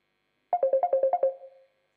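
A mobile phone ringtone sounds during an entrepreneurship event, playing a quick run of about eight bright, bouncing electronic notes that briefly trail off, clear and alone against silence.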